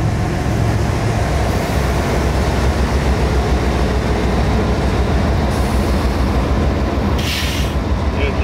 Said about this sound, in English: the train idled practically right next to us